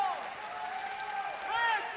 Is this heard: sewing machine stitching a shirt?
no